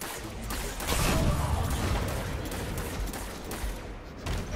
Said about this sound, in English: Why is this guy shooting at us?